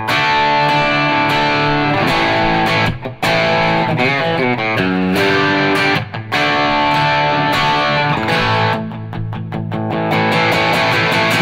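Electric guitar played through a Nobles ODR-1 clone overdrive pedal on a pedalboard, a light stage-one drive with a warm, sustained distorted tone, strummed chords and single-note runs ringing close and loud with brief pauses, no talking.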